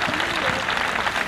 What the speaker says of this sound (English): how about a nice round of applause for Lei Anuni?